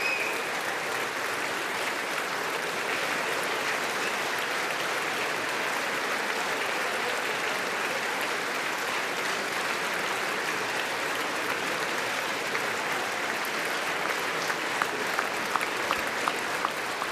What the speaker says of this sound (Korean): 박수 소리도 좀 높아지.